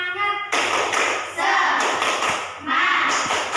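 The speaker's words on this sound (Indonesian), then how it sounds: "Sekali lagi tepuk semangat." A classroom of children claps a rhythmic spirit cheer, a flurry of quick hand claps and taps, close and lively, in bursts that stop and restart.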